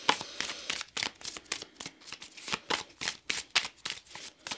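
Tarot cards are shuffled by hand close up, giving repeated crisp riffling and slapping bursts in an irregular rhythm with no talk.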